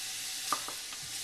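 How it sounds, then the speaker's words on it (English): Bacon frying in a pot for Manhattan clam chowder gives a steady, close sizzle with a few faint scrapes of stirring over about a second, with no voices. "Get this bacon fried up a little bit"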